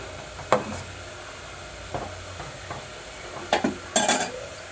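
A spoon scrapes and clinks against a pot of rice kheer simmering in milk, in a few sparse, separate strokes with quiet gaps between them.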